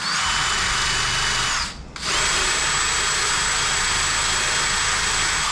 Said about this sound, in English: Grab my wire wheel. Make sure that's tight enough. I'm just going to clean this up.